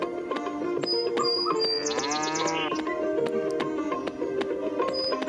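A cartoon cow in a cowshed gives a long, loud moo over a bright musical backing, the bellow rising in the middle of the clip and then fading back under the music.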